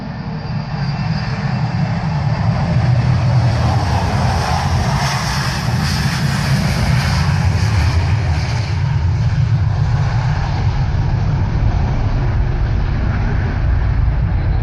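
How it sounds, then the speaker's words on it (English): An overloaded Boeing 737 jet makes a long takeoff run, its engines a loud, sustained roar that stays steady throughout as it barely lifts off before the runway's end. "This Boeing 737 was too heavy and could barely take off before the end of the runway."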